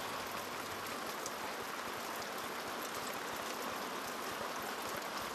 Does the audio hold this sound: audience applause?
no